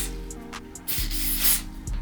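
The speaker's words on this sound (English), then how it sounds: "This is lace melt spray." Lace melt spray is sprayed onto a wig's lace over glue, making close, loud hissing bursts with short pauses between them.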